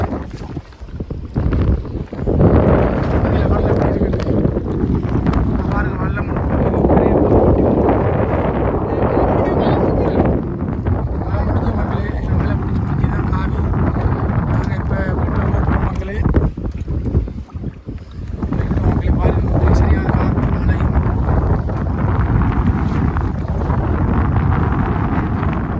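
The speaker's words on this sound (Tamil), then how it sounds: "சரியான காற்று மக்களே" Strong wind roars across a boat out at sea, loud and continuous with heavy buffeting on the microphone, dropping briefly before picking up again.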